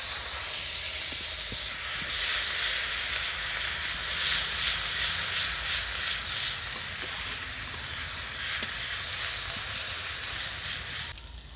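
Onion paste frying in hot oil in a wok, giving a loud, continuous broadband hiss and sizzle that holds steady throughout, with a few faint clicks underneath and no talk.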